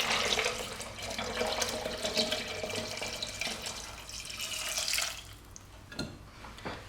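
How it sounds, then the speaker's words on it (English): A quart of filtered water poured into a pot of cranberries for sparkling cranberry juice, a steady close splashing pour that tapers off near the end. "pour it into our pot with the cranberries in it."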